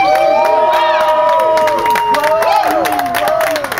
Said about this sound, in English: if everyone could just give the radio audience a big woo-ha from down here